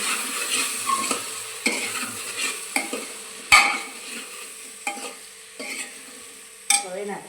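Black cumin sizzles in a hot pan for kadhi khichdi while a spoon stirs and scrapes it. Several distinct stirring clatters stand out over a soft, continuous frying hiss.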